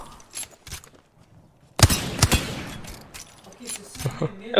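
Gunfire in a competitive video game: a few scattered shots, then a sudden loud burst of rapid cracks followed by more intermittent shots, with people talking faintly in between.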